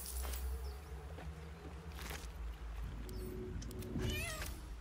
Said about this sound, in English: Lord Loinstomper used meow.